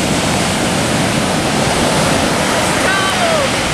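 Ocean surf roars in a steady, dense wash of noise, loud and continuous, with no breaks between the waves.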